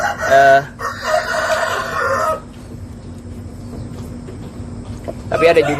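Chickens in a coop: a rooster crows loudly and nearby at the start, hens cluck and call through the middle, and another crow rises at the end.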